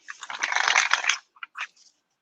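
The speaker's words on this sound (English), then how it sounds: "Oh, this deck shuffles really nice. It sounds good too." A tarot deck is riffled and shuffled up close, a dense burst of crisp card flutter followed by a few lighter taps and snaps in near silence.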